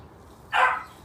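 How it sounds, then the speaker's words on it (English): A dog gives one short, fairly loud bark indoors, where dogs are kept in while a pet Herman tortoise roams; the single yelp rises briefly above quiet room background with no talking. "You can hear the dogs now because they want to come out"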